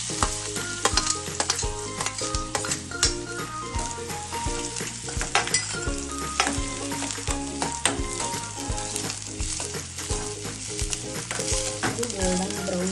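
Chopped onions fry in oil until golden brown, a dense continuous sizzle close up with frequent spatula stirring and scraping against the pan, and no talking.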